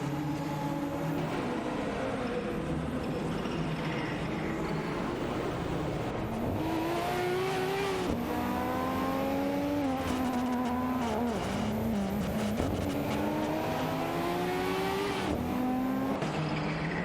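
Race cars in a video game race, engines revving steadily and rising in pitch through gear changes, with the continuous loud whine of several cars and occasional tire squeal.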